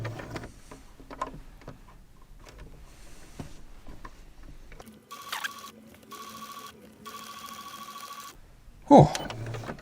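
A sewing machine stitches a patchwork quilt, a short mechanical whir running for a few seconds midway amid handling clatter and quiet talk.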